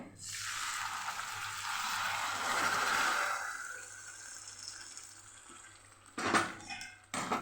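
Hot sugar water poured into roasted semolina in a pan for sheera sets off a loud hissing sizzle that fades over a few seconds, followed by brief clattering of a utensil against the pan.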